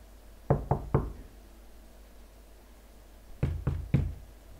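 Someone knocks on a door in two bursts of three firm raps, separated by a pause, close and clear over quiet room tone.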